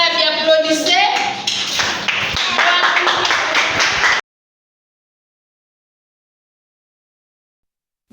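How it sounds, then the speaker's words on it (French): Classroom applause from students in a Kikongo language class in Mbanza-Ngungu, DR Congo: a dense burst of many hands clapping for about four seconds with some voices mixed in, then it stops abruptly and silence follows. "Très bien, applaudissez."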